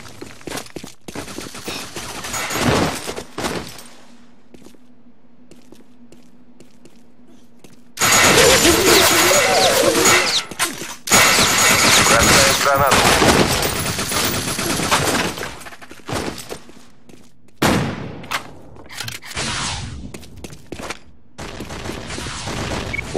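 Video game Run and Fire plays bursts of heavy gunfire and grenade blasts in loud dense volleys, with quieter gaps between them. Another rapid barrage erupts near the end.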